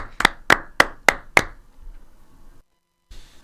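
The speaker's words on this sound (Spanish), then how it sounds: "Para ella, el aplauso." Five sharp, evenly spaced claps ring out close and loud, each with a short decay, then silence followed by a brief noise; applause for a short story contest winner on a radio show.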